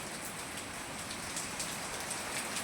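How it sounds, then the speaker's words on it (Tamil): Heavy rain pours down steadily on surfaces during a downpour, a dense, even hiss with scattered drops tapping nearby, continuous and without voices. "ஆனால் மழை பெஞ்சிட்டு தான் இருக்குது."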